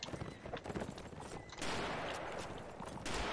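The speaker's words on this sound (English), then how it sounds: "Dude, I'm shooting at that guy." Gunfire in Mount and Blade 1866, a rapid burst of sharp shots followed by a denser, louder barrage of rifle fire, mixed with clattering hooves and background noise.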